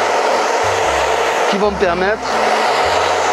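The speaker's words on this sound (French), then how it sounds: "Et ensuite, avec le sèche-cheveux, de leur donner un petit mouvement" A hair dryer blows steadily and loudly while styling hair for a creative Christmas advent calendar project, with someone speaking French over the continuous whooshing airflow.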